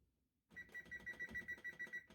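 An oven timer is set with a rapid run of evenly spaced electronic beeps or ticks, close and fairly quiet, starting after a brief silence.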